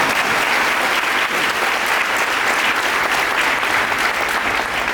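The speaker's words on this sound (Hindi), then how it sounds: "अरे दिल वाले हो तो अच्छे से हाथ ताली बजाओ यार" An audience at a husband and wife church meeting claps hands in steady, dense applause that stays loud and even from start to finish, with no talking over it.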